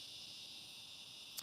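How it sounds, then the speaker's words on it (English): Cicadas drone in a steady, high, shimmering buzz that holds evenly throughout, moderately loud with a brief sharper chirp near the end and no voices. "Those cicadas are paid actors."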